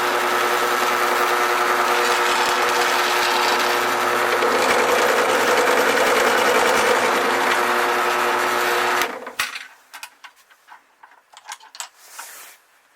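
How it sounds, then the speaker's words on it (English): A shotgun shell hull being roll crimped, held in a hull vice: a loud, steady mechanical whirring runs for several seconds, then cuts off, leaving scattered close clicks and light handling knocks. "There you see the hull, ready to roll crimp."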